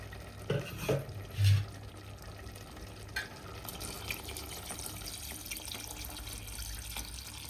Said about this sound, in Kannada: ಇವಾಗ ನೀರು ಹಾಕೊಳ್ಳೋಣ್ರಿ